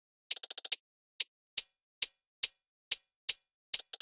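Electronic drum pattern with a layered snare and hi-hats, starting with a quick burst of six hits and then settling into evenly spaced bright, crisp strikes, heard alone with no talking.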